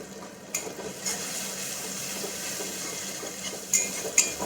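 Turmeric, hot chili and Kashmiri red chili powder fry in a pan while being mixed, giving a steady low sizzle broken by a few sharp clicks of a utensil against the pan. No one talks.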